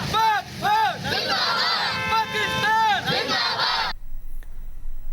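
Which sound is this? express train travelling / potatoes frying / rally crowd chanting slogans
rally crowd chanting slogans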